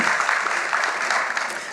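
A short burst of audience clapping at an awards ceremony for teaching excellence, dense and steady for under two seconds, fading slightly at the end.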